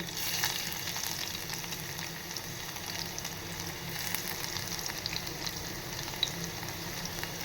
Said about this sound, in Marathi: आणि लसूण घालून झाली की मग आपण थोडीशी लसूण छान अशी परतवून घ्यायची